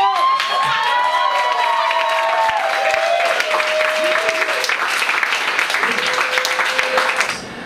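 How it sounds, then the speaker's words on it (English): Audience at a New York spoken word poetry event claps and cheers steadily for a poet named Ovi, with whoops and shouted voices rising above dense applause that fades near the end. "Clap again for Ovi"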